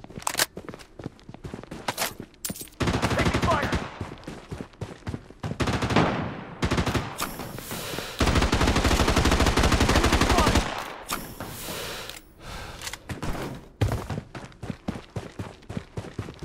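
Gunfire in the video game Bloodstrike: bursts of rapid automatic shots and single cracks, with a long sustained volley mid-way, interspersed with footsteps and short pauses, loud and close.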